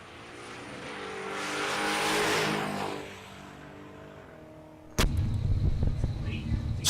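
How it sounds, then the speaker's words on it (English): A 1991 Camaro Pro Street car at a drag strip, heard as a loud engine roar that swells and fades as it passes, then a sudden burst of close rumbling with crowd and commentary noise. "William Alex Scanlon, the 91 model Camaro in the Pro Street category"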